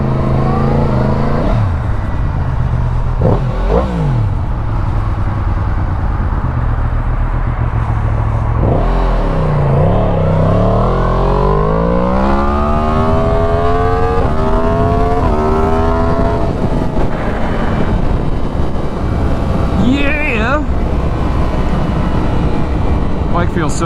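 Suzuki SV650 motorcycle engine on a test ride, loud and close, revving and accelerating through several rising gear pulls with drops between shifts, steady wind and road roar throughout.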